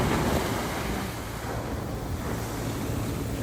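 Sea waves wash steadily onto a shore in a broad, continuous rush, mixed with gusty wind buffeting the microphone.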